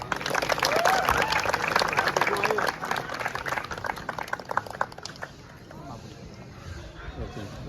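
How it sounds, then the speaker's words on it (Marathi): A crowd at a celebration for students who joined government services applauds loudly, dense clapping that fades after several seconds as a voice talks over it. "तर त्यासाठी जोरदार टाळ्या"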